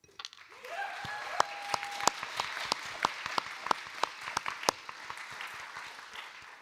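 An audience applauds the two competing teams at the finals of the ICC International Mediation Competition, sparse sharp claps over a broad steady patter of clapping in a hall, with a faint voice at the start.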